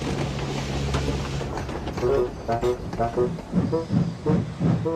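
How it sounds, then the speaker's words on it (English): A boat train, a steam train, pulls into a harbour, hissing and rumbling steadily beneath voices and tonal sounds. "The boat train arrived at the harbour ahead of schedule."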